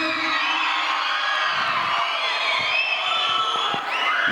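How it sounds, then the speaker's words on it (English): A live audience cheers, whoops and yells together for the whole moment, a loud, dense wall of crowd noise with high shouts rising above it. "right now give me a big cheer. Everybody, make some noise,"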